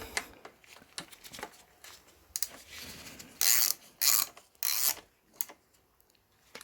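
A ratchet wrench tightens the crankset on a mountain bike, scattered small clicks followed by three or four short bursts of loud rasping ratchet action, close by, with no talk.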